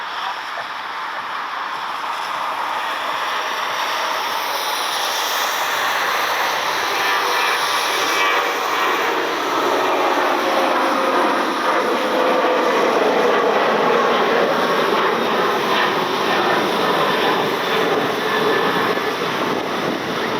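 A Southwest airliner at Cleveland Hopkins airport on a rainy night, heading to Chicago, gives a steady, loud jet-engine roar with a broad hiss that swells and holds for about twenty seconds, with no talking.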